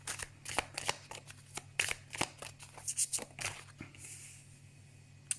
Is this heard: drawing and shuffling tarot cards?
yes